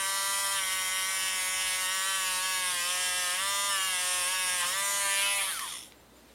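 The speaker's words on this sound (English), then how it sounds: "I use a motor brush, wire brush on a rotary." A wire brush on a high-speed rotary tool scrubs a metal bracket clean, a steady, whining buzz lasting several seconds, wavering slightly in pitch under load before spinning down and cutting off.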